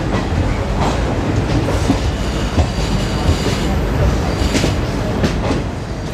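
A green-liveried Garib Rath Express train running through Masjid Bunder station without stopping, a loud continuous rumble with clattering wheels and brief metallic squeals, steady from start to end.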